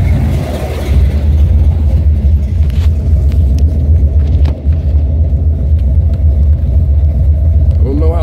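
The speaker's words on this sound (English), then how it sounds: "So I'm gonna take a little quick drive, you know, in the nice weather." A 1987 Buick Regal T-Type with a Stage-1 455 engine drives along, its loud low rumble steady and close with slight revving, and a voice talks over it.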